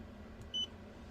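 A multimeter set to buzzer mode gives a single short, faint electronic beep while testing a Keyang charger, heard alone over a low steady hum.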